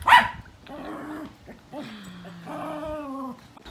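Several dogs bark and whimper in a home kitchen, a sharp yelp followed by drawn-out whining howls at close range, with faint background noise between.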